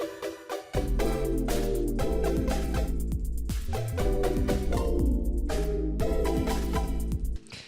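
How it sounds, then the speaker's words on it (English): A bright retro synth pluck lead plays a bouncy melodic line over a deep sustained bass, loud and steady with no voices. "a classic sound that we find in Future Bass, which is that retro pluck type lead"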